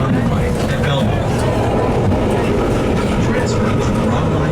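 A Chicago Red Line subway train running toward Belmont, a loud continuous rumble and rattle of the car on the rails, heard alone at close range.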